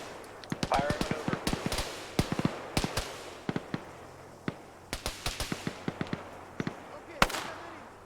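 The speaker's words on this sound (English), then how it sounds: "Fire a couple of shots, move." Arma 3 gunfire during a squad firefight: sharp, scattered shots crack out in irregular bursts, some near and loud, others lighter, with pauses between volleys.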